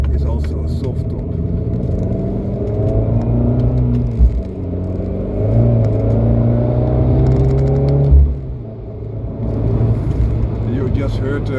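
A stage 1 tuned, lightweight soft-top car of just over 1,000 kg and 310 Nm of torque, fitted with a Record Monza exhaust, revs loudly nearby. Its engine note climbs and falls in a few rising sweeps over a deep, rumbling idle.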